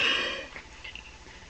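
A person makes a short, loud burp meant to imitate a dog burping, strongest at the start and then trailing into quieter throat noises.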